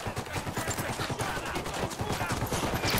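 Rapid gunfire in a video game mission, dense overlapping shots rattling steadily throughout, loud and continuous like a fusillade.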